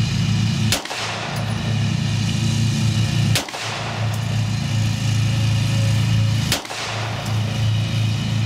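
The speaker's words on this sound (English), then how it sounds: "I'm going to try some offhand performance just to see how the trigger performs in some speed-up shooting here." Smith & Wesson M&P Pro pistol fired offhand at a range, three sharp loud reports spaced about three seconds apart, over a steady low rumble of background noise.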